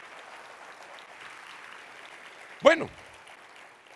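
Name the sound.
congregation applauding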